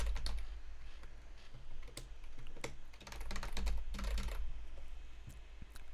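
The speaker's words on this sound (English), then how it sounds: "I am pressing keys on the keyboard." Keys pressed on a computer keyboard during a gaming session: a steady run of quiet, irregular clicks and taps, close by, with clustered bursts of quicker typing and no voices.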